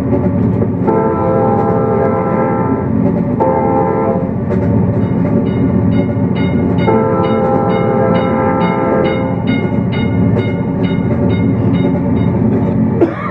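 A train rumbles past a crossing with a loud, blaring horn sounded in several long blasts, heavy wheel noise underneath throughout.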